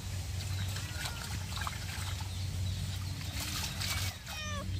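Water splashing and trickling as small fish are rinsed by hand in a basin, a continuous close sloshing with brief dribbles over steady background noise.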